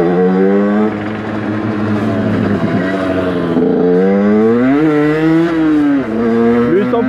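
A motorcycle pulling out to overtake, its engine loud and close, revving up through rising and falling pitch sweeps with gear changes over about seven seconds, with wind rush behind it.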